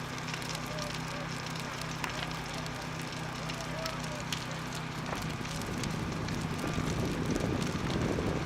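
A barn fire burning in the wind, a steady roar and crackle of flames mixed with gusting wind noise on the microphone, continuous and fairly distant, under a narrating voice.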